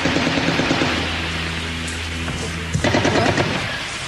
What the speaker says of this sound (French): Dès la grille franchie, des tirs.